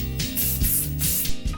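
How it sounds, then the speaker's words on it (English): A dragon model gets spray painted, with short bursts of aerosol hiss repeating in a quick rhythm, close and fairly quiet. "And now it's time to spray paint the dragon."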